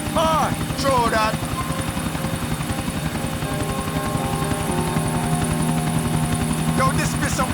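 A helicopter in Grand Theft Auto IV gives a loud, steady rotor thump and engine drone throughout, with faint in-game sounds on top.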